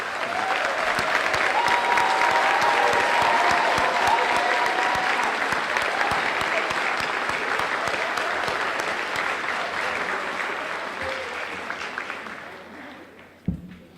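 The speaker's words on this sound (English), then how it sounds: "Please give them a great round of applause." Audience at a National Technical Honor Society induction and awards ceremony breaks into loud, sustained applause that fills the room for about thirteen seconds before tapering off, ending with a single sharp knock.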